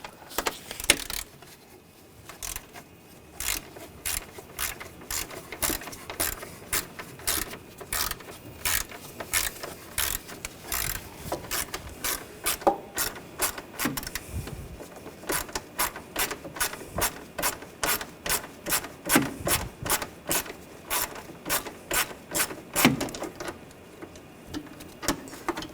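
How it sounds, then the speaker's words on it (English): Ratchet with an 8mm socket backing out the cooling fan bolts on a 2013-2022 Buick Encore, a long run of quick close clicking strokes in repeated bursts, with no voices. "using a 8mm socket, we're going to take these bolts out"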